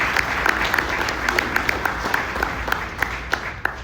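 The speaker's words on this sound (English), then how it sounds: "Give yourselves a round of applause." An audience at a Corvette Bowling Green Assembly Plant event applauds steadily, dense clapping from a sizable crowd holding at an even level for a few seconds.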